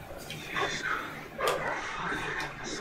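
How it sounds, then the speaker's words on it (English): A wolf in the video game Until Dawn whines and yips close by in a steady stream of game ambience, while people talk over it. "Hey, the wolf is here."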